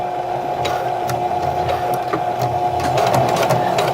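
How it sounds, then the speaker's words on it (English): A domestic sewing machine stitches through a folded fabric edge on a ribbon garment bag, humming at a steady close whir with a constant mechanical buzz and no talking. "What I'm doing is sewing through the fold."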